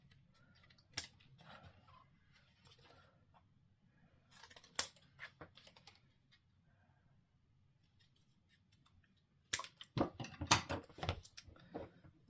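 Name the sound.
scissors cutting paper for a scrapbook album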